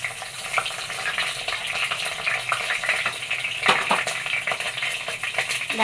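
Cinnamon, cloves, mace and cardamom frying in a mix of oil and ghee for chicken biryani, a dense bright crackling sizzle with occasional stirring clatter, close and steady with no speech.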